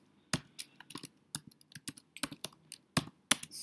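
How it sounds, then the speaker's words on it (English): Typing on a computer keyboard, with irregular, close, quiet key clicks and taps in a quiet room and no talking. "I'm gonna type some words."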